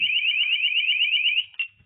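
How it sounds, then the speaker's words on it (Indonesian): A motion sensor alarm gives out a loud, shrill, rapidly warbling electronic tone for about one and a half seconds, then one short beep, with quiet around it. "jika ada pergerakan, maka alarm ini bekerja ya"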